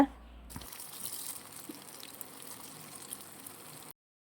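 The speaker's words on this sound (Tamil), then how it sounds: "அதுக்கப்புறம் நல்லா சூடான எண்ணெயில் போட்டு பொரித்து எடுத்துக்கோங்க." Breaded chicken cutlets deep frying in hot oil, a steady broadband bubbling hiss that starts abruptly and runs evenly for a few seconds before cutting off, close and moderately loud with no talk.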